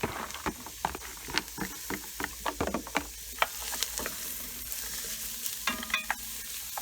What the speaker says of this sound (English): Browning the onions will do that.